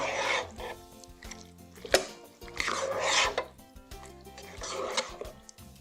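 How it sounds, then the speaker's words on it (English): A lentil, corn and sweet pepper chili mixture is stirred in a pot, with repeated bursts of scraping and clinking from the utensil against the pot, each separated by short pauses. "You want to stir everything well so the spices and everything get well mixed"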